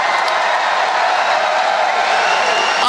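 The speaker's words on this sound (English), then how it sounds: "Give him a big round of applause." A large crowd at a Donald Trump rally in Kissimmee, Florida applauding, steady loud dense clapping that continues evenly throughout.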